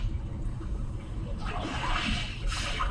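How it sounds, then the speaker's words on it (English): Calm sea waves ambient sound played through the 2020 Hyundai Sonata Hybrid's cabin system: a steady broadband wash with soft swells rising and falling, moderately loud and continuous, with no talking. "How about your calm sea waves?"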